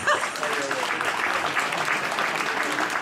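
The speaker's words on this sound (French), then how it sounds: "Franchement, on peut l'applaudir pour ça." An audience applauds at a harpist's talk, a dense burst of clapping that carries on steadily for a few seconds with voices mixed in.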